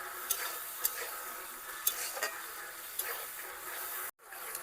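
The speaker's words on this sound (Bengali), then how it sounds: "টমেটোটা দেওয়ার পর আবারও কিছু সময় নেড়ে নেব।" Onion and chopped tomato fry in a wok as a spatula stirs them, with regular scraping clicks every second or so over a steady bright sizzle, close and loud, with no talking.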